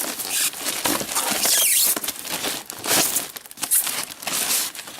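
A Sony PS4 console is pulled from its plastic wrap and styrofoam packing, with close, loud crinkling and rustling in uneven bursts throughout.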